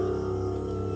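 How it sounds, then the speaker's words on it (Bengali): Crickets chirp steadily at night after rain beside a large pond and paddy fields, a continuous, even trill at moderate distance with no voices. "ঝিঝি পোকার ডাক"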